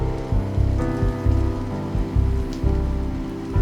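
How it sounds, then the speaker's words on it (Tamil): Steady rain falls on a surface outdoors, a dense continuous patter with a low rhythmic thudding beneath it and no talking. "ஏய் மழை பெய்யுது பாரு."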